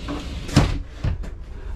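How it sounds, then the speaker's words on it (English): A sliding bathroom door in a 2024 Prime Time Avenger 28REI travel trailer rolls and bumps shut, with two or three close, hollow knocks over a faint room background. "And this sliding bathroom door."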